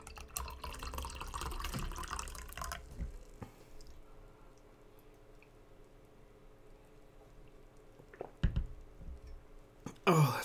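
Tea pours in a steady, splashy stream for a few seconds and then stops, leaving a quiet room broken by a few soft drips and small clinks.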